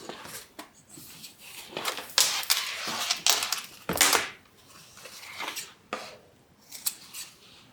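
Scissors trim the fabric corners of a multi-compartment Compton Carryall tote bag, making close, crisp snips and scrunching cuts in an uneven series of bursts with short pauses, and no talking.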